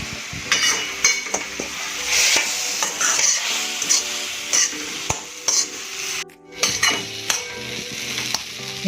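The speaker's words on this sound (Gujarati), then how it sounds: "હલાવીશું" Modak mixture being stirred in a pan over low heat, with repeated scraping and clicking strokes of a spoon against the pan in an uneven rhythm over a soft sizzle, close and clear, with a brief pause partway through.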